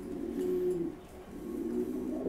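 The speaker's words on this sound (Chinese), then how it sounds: "现在我们把这只鸽子拿走，拿到另外一个空笼的里面" Seven-star pigeons in a cage coo in low, rolling bursts, close and clear, with a short pause between two phrases and no talking.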